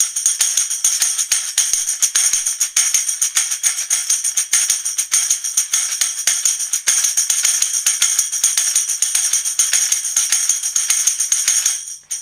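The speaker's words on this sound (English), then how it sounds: "So we're going to be striking that tambourine on our palm," A tambourine is struck against an open palm in alternating down and up strokes. It makes a continuous, bright shimmer of jingles with quick rhythmic accents, played close and loud without pause until a sudden stop.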